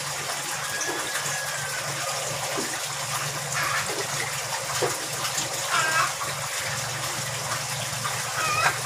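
Water is poured over a heated, softened PVC pipe being shaped for a DIY koi pond fence, giving a steady close splashing and trickling that runs without a break, with no talk.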